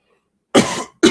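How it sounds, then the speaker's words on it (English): A person coughs twice, close and fairly loud: a longer rough cough, a short pause, then a second burst, with silence before. "I'm still trying to fight this little cough off."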